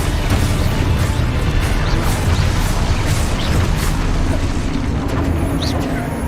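Confringo and Expulso spells fire in Hogwarts Legacy, giving a dense, loud, continuous wash of booms, crashes and bursts with no pause.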